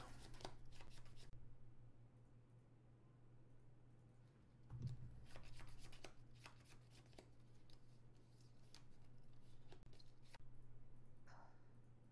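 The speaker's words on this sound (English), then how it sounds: "Am I shuffling cards? I am." Playing cards are shuffled close by, giving quiet, soft bursts of riffling and snapping over a steady low electrical hum in a quiet room.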